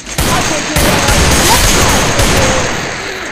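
Gunfire in the mobile battle-royale game Free Fire: loud, close shots cracking out at irregular intervals over a dense, continuous wash of in-game noise, with no voices.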